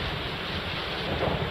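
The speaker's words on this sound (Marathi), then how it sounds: "राधानगरी, शाहूवाडी, पन्हाळा भागात मुसळधार पाऊस सुरू आहे" Heavy monsoon rain pours over the Radhanagari, Shahuwadi and Panhala area of Kolhapur, Maharashtra, as a dense, steady wash of rainfall noise with a low rumble that may be thunder, continuous and fairly loud throughout.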